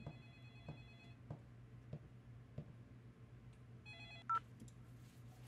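A telephone goes off in a quiet room: faint repeated electronic tones with soft ticking clicks, then a louder ring burst near the end, with no talk over it.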